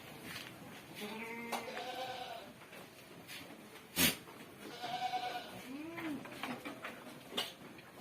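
Boer and cross-Boer goats bleating in a pen, several wavering calls from different animals, moderately near, with a sharp knock midway and no talking.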